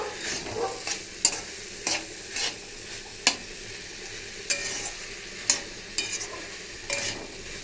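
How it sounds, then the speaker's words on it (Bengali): Banana flower cooked with shrimp sizzles steadily in a pan while a spatula scrapes and stirs it in regular, sharp strokes, about one every half second to second, close by and with no talking. "দেখুন মোচাটা কষা হয়ে গেছে"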